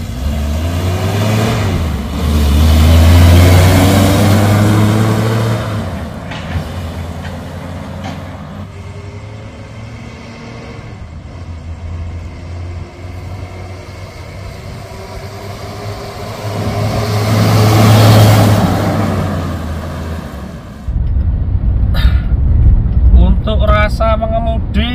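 A car on a test drive pulls away with a loud low engine hum that swells during acceleration and eases off, then builds again, with road and cabin rumble and rattles toward the end.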